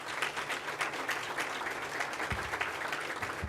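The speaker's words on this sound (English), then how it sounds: "please give them a big round of applause" Audience applause for university leaders and the board of directors at a medical college announcement event: dense, steady clapping from a crowd, fairly distant and even throughout with no talk.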